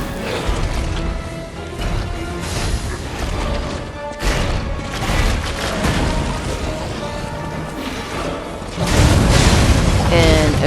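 Fire attack of the boss Fuoco, the King's Flame, in the game Lies of P: loud roaring booms and crashing bursts over a constant mechanical din, with a final heavy blast surge near the end.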